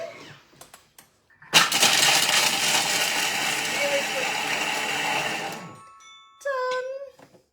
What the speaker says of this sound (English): We're going to chop all that up on speed 7.